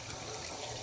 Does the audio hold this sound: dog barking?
no